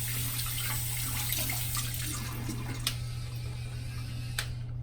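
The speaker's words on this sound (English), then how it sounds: "I'm gonna rinse the brush off." Tap water runs steadily while a Duvolle Spin Care Radiance face cleansing brush is rinsed, a continuous close splashing hiss with a low steady hum underneath and a couple of small knocks.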